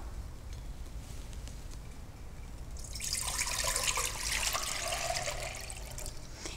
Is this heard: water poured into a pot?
yes